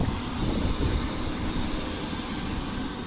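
A Northern Class 195 diesel train passes through Ardwick on the West Coast Main Line, heard as a loud, continuous broadband rumble and roar that stays steady throughout, with no voices.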